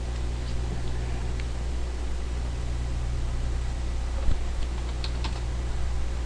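Steady typing of an amount on a computer keyboard, with close, light key clicks in an irregular rhythm over a constant background hiss, with no talking.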